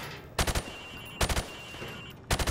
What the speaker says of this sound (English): shoot at the targets while firing from the hip